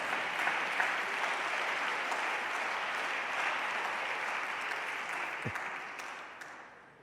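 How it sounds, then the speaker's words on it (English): A large audience gives a sustained round of applause, a dense, steady wash of clapping that holds evenly for several seconds and then gradually fades near the end. "Let's give them a round of applause."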